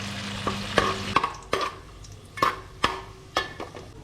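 Barramundi and other ingredients cook in oil in a pan, a gentle sizzle punctuated by a series of sharp metallic taps and scrapes from stirring, close and fairly quiet, with no talk.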